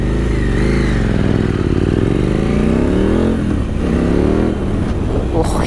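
A KTM 890 SMT motorcycle with a Vandemon exhaust revs on a test ride, its engine note rising and falling in loud, close sweeps, with a few pops and crackles on the overrun and some wind noise.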